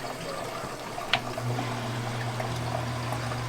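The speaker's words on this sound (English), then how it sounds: "I hear water. It should be running down the pipe." Water trickles and flows steadily through a laundry grey-water pipe under a low pump hum, with one brief clunk partway through.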